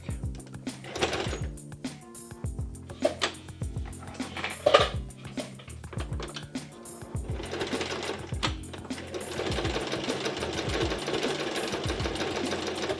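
A sewing machine runs slowly through thick layered fabric for a tote bag, stitching in short stop-start bursts before settling into a steadier, continuous run.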